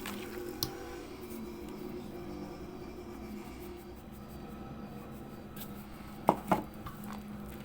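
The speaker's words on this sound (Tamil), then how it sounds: "மஜ்ரீனையும் சீனியும் நல்லா அடித்தாச்சு" Margarine and sugar are beaten together in a bowl for eggless almond biscuits, making a soft, continuous squishing and scraping with a couple of brief clinks near the end.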